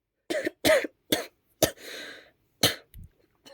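A person coughs several times up close, in short harsh bursts with brief pauses, then a final throaty cough trails off.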